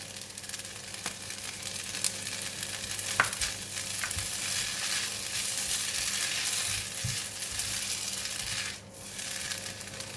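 Rice pin noodles (lou shu fun) being stir-fried with bean sprouts in a pan, a continuous close sizzle overlaid with scattered scraping and clinking stirring strokes, no voices present.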